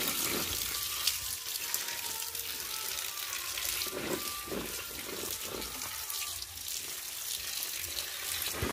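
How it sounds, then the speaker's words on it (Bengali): Jujube fruits being rinsed under a running tap into a sink, giving a steady broadband splash and gurgle of water with small shifting clatters from the fruit, close by and continuous throughout. "কুলটা ধুয়ে নেব।"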